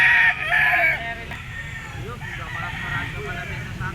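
A bull stag gamecock offered for sale crows loudly up close in the opening second, its call then fading behind a steady low rumble of a busy market.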